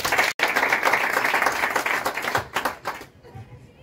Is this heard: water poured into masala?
no